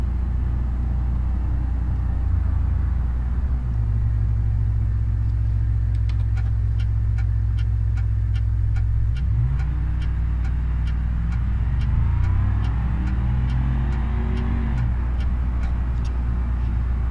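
A Ford Crown Victoria drives in the BeamNG.Drive video game, with a steady, loud engine rumble and road noise throughout, small ticking clicks and some shifting engine tones joining partway through. No one speaks.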